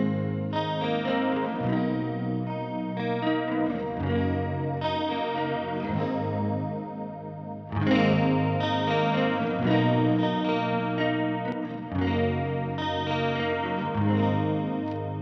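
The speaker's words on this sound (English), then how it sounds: "it has a detune mode, which makes an excellent sounding chorus" An electric guitar plays chords and lines through a Keeley Octa Psi pitch shifter in detune mode, which adds a sharp and a flat copy for a wide, warbly chorus shimmer with some distortion. It is played alone, with no voices.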